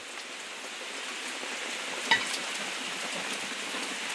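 Steady hiss of rain falls continuously with no voices, an even wash of noise broken only by one faint click.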